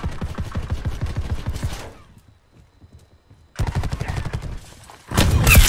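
Call of Duty Black Ops 4 gunfire aimed at a sentry gun comes as dense, rapid bursts of shots. A quiet gap follows before loud, heavy firing resumes and builds to a louder barrage.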